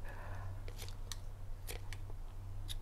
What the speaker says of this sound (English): now I'm gonna cut it. I need the big scissors.